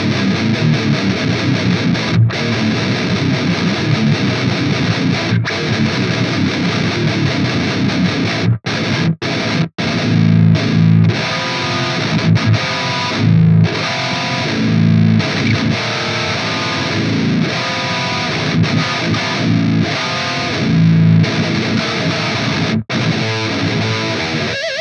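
A Vola 7-string electric guitar with a Vola flame bucker pickup plays heavily distorted riffs, thick chugging chords with brief stops and restarts, loud and unaccompanied throughout.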